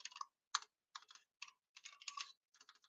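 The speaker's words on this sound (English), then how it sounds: "I'll type this in the chat as well" Bursts of computer keyboard typing, quick clustered keystrokes in several short runs separated by brief pauses, fairly close and moderately quiet, with no talking.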